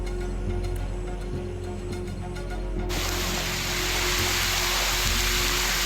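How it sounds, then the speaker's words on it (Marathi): Heavy monsoon rain pours in Sindhudurg during a red alert, making a dense, steady, close hiss. The hiss grows fuller and louder partway through and has no speech over it. "दृश्यांमध्ये आपण बघतोय सिंधुदुर्गात मुसळधार पावसाची हजेरी"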